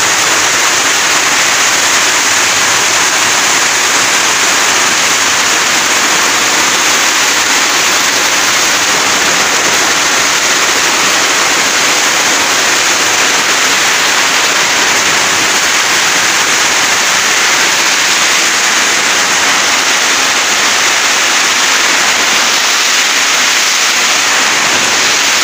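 Heavy rain and strong wind during flooding at a house make a constant, dense, loud roar that holds steady for the whole stretch, with no voices.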